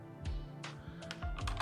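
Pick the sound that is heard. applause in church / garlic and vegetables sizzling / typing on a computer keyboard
typing on a computer keyboard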